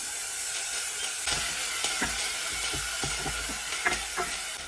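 Garlic and ginger sizzling in hot olive oil for a Sindhi-style moong masoor dal, a steady close hiss with scattered crackles and soft stirring knocks throughout.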